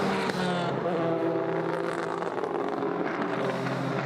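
A high-revving, naturally aspirated Ferrari V8 race car roars past at Spa-Francorchamps during the 6 Hours endurance race. The engine gives a loud, sustained scream with shifting pitch, and wind noise sits over it.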